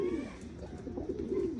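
Pigeons coo softly in a low, burbling rhythm that keeps on through the short stretch, with no talking.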